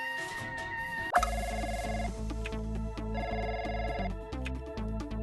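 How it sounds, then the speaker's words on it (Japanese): A phone rings over game background music in the mobile game Trickcal, an internal line call with a repeating electronic ring pattern, fairly loud and continuous alongside the music. "あ、教主様からの内線電話。"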